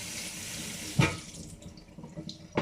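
Scalded tomatoes are rinsed under a running kitchen tap: a steady close stream of water, with a brief splash as the fruit meets the flow and another near the end.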